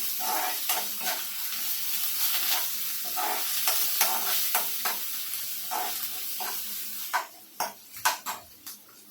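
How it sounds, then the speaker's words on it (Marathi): Crushed ginger and garlic sizzle in hot oil with steady broadband crackle while a utensil stirs and scrapes the pan, the scraping growing louder and more clattery toward the end of the cabbage vegetable dish. "माझं तेल तापलेलं होतं त्यामुळे लसूण भाजला गेलेला आहे"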